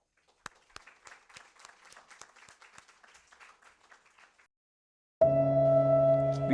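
Lecture audience applauding to welcome a speaker at a memorial lecture hall, a scattered patter of claps that swells, holds and fades over several seconds, followed by a sudden loud steady tone.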